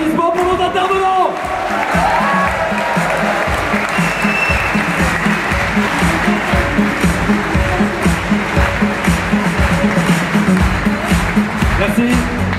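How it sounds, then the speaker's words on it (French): A large audience at a rally of La Manif Pour Tous breaks into sustained, loud applause for the speakers, dense clapping mixed with crowd noise and a few whoops, steady throughout. "Un tonnerre d'applaudissements pour nos intervenants."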